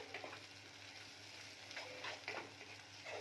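Yogurt and spices sizzle softly in a pan over a low flame for a spinach curry, with a steady frying hiss and faint scraping of stirring, quiet and continuous.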